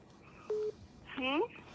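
Telephone call tones during a live broadcast phone-in: a short flat electronic beep followed by a brief rising tonal sweep as the call is cut off, over a quiet background.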